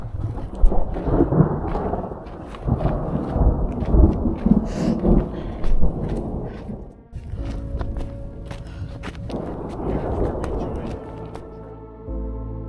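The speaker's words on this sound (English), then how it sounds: "even if the thunder is telling us to hurry up" Thunder rolls and rumbles through a light mist during a final ascent at about 10,000 feet in the mountains, loud and sustained for several seconds, with crunching footsteps and steady rain-like hiss that continue after it.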